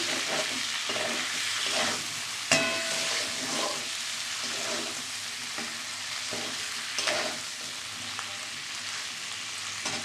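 A potato and taro curry with salt is stirred in a pan as it fries, with a steady sizzle broken by periodic scraping strokes of the spoon and one sharp knock.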